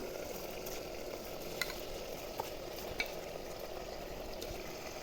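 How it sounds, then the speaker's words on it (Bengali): Washed rice being fried with paneer and spice masala in a pan, a steady soft sizzle with faint stirring scrapes and a few light clinks, moderately close and alone without speech. "চালটা এর সঙ্গে ভালো করে ভেজে নেবো।"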